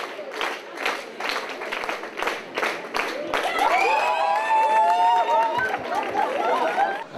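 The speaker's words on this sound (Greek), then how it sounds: "Δώστε και εσείς το χειροκρότημά σας." An audience at a youth capital announcement event in Thessaloniki claps, steady scattered applause swelling into a loud, dense crowd roar with cheering and chatter mixed in.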